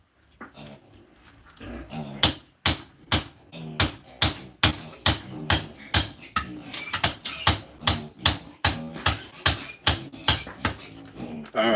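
Steady, rapid hammering on a construction site, a long run of evenly spaced sharp strikes close by after a quiet start, with faint background noise between blows.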